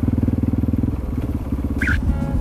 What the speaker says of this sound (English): This is the entrance to Uruguay, and you can see Tony's bike there